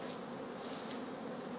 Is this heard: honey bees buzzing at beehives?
yes